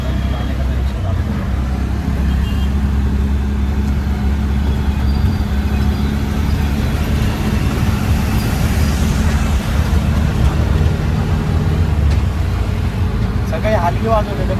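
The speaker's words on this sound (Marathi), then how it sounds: "त्या रिक्षातून चाललेलो आहे आपण बाहेर" A ride in a moving auto rickshaw through traffic near a station, with a loud, steady low engine rumble and road noise throughout and passing vehicles around it.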